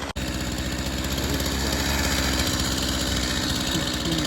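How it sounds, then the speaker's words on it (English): A Stihl chainsaw engine runs at a steady, loud idle close by, with a continuous rough buzzing throughout and no speech. "The Stihl's running good. It wouldn't start at first, but I got it going eventually."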